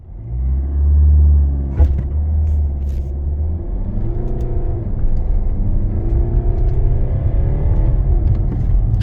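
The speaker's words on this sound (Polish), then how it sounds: "Zrobiłem nawet przyspieszenie od 0 do 60 na w pełni zaśnieżonej, niczym nie posypanej drodze" A Mercedes C 220 d 4MATIC All-Terrain diesel estate accelerates from standstill to 60 on a fully snow-covered, unsalted road, a steady low engine rumble building and rising in pitch as it pulls away.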